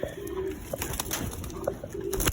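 Pigeons coo repeatedly nearby, low rounded calls recurring every second or so over faint background noise.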